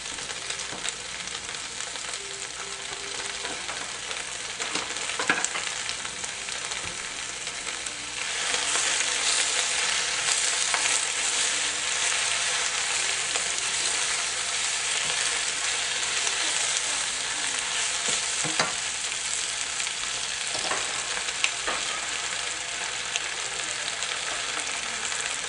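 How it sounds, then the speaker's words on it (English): A whole bunch of spinach sautés in a frying pan, giving a loud, steady sizzle that grows stronger partway through, with occasional scrapes of stirring and no voices. "so we put a whole bunch of spinach in the pan"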